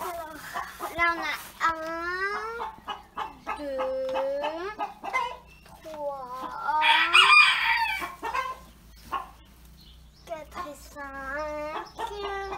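Hens clucking close by in a farmyard during egg collection, with repeated rising and falling calls, a loud burst in the middle and a rooster's crow among them; no talk.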